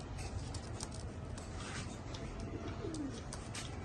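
Pakistani Butara pigeons cooing, a pair of high-flying birds kept for sale, with soft repeated coos over a steady background hum and some faint bird chatter.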